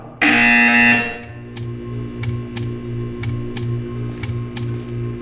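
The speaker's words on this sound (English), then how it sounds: "You will hear a buzzer." A loud, harsh buzzer sounds for about a second in the Portal 2 video game, followed by a steady electronic hum with a regular series of sharp ticking clicks.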